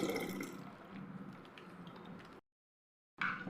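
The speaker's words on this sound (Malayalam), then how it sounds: "ഇവിടെ ഒരു 1/2 ലിറ്റർ പാലാണ് ഒഴിക്കുന്നത്." Cold milk, about half a litre, is poured into cooked ragi, giving a soft continuous liquid pouring and splashing sound that cuts off abruptly to silence, then briefly resumes.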